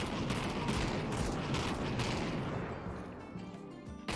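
Dense, continuous gunfire, rapid and loud, dominates the whole stretch, with several shots blurring together, then thins into fainter popping and a last sharp crack near the end; it comes from a Desert Eagle pistol in the VR game Half-Life: Alyx.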